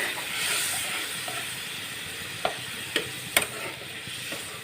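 Fried spice paste for a Bengali fish-offal curry keeps hissing and sizzling steadily in the pan, with a few sharp crackles and pops near the end.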